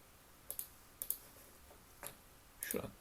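A computer mouse clicks about four times while someone works in Visual Studio 2022. The clicks are small, crisp and close, some in quick pairs, against a quiet background.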